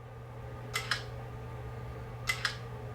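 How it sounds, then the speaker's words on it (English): A TCL 30 XL phone camera shutter fires twice in quick succession, then twice again, with loud, crisp double clicks over a steady low background hum. "you've probably noticed that shutter is super loud"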